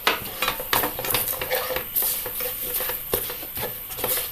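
Roasted coconut being stirred in a hot clay pan for a koorka theeyal, with close, irregular scraping and light clinking strokes over a faint sizzle, no talk.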